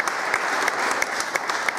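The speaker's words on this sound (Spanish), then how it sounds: "Aplausos, como comentábamos," Applause fills a parish church during a golden jubilee Mass for a priest, a dense, loud wash of many hands clapping with a few sharper claps standing out, sustained without voices.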